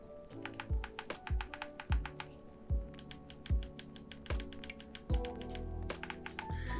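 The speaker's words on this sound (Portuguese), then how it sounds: "E indo para os cliques dos analógicos, eu achei eles bem silenciosos." Rapid sharp clicks from the analog sticks of a Gamesir Cyclone 2 game controller, pressed in an irregular run of quiet, close taps with a few heavier thumps.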